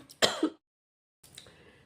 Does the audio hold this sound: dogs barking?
no